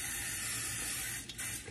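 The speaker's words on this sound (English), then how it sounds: "I'm going to spray it real good with nonstick spray." Nonstick cooking spray hisses in a steady close burst onto a hot waffle iron while cauliflower waffles are being made, then cuts off near the end.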